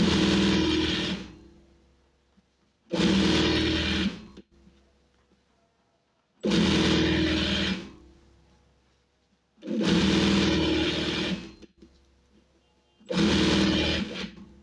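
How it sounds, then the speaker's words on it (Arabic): A home sewing machine stitches a zippered pillow cover in five bursts of steady whirring, each lasting about a second and a half, separated by short quiet pauses. "تبعوا معايا نخيط ونكملوا مع بعض"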